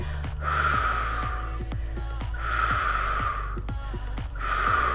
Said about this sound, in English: Little short exhales.